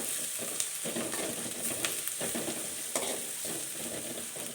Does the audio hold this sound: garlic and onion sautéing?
yes